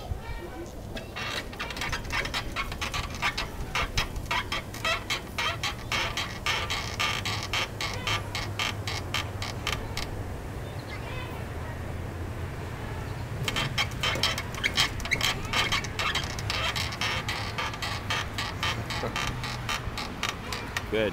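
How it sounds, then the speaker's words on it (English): A playground bridge squeaks and creaks as a child plays on it outdoors, sounding as rapid runs of rhythmic ticking squeaks that come in two long bursts around a quieter middle stretch. Speech is present in the clip. "you're really making that bridge squeak"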